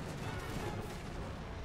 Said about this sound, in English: They're gonna receive volleys from three regiments.